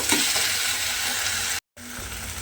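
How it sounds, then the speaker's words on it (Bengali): Eggplant sizzles steadily in a hot pan while it is stirred together with tomato, onion, garlic and green chili. The frying noise is loud and close, with one brief cut of silence near the end. "এই বেগুনটা খুব ভালোভাবে মিশিয়ে একটু রান্না করে নেব"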